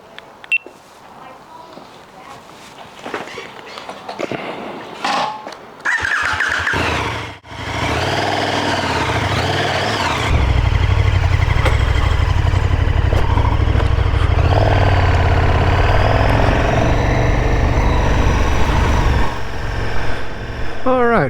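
A KTM Super Duke motorcycle rides out through town, engine idling and blipping before settling into a loud, steady drone as it gets under way, with a few beeps and a voice talking early on.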